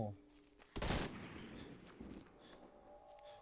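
A short burst of gunfire in the zombie shooter Into The Dead 2, one loud crack near the start fading into low background noise, with faint game sounds afterward.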